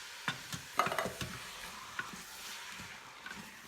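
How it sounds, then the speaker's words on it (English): Canned diced tomatoes going into a pot with cumin and being stirred, a soft wet sizzle with a few faint clinks and scrapes, close and fairly quiet. "Now I'm also going to add just a can of diced tomatoes."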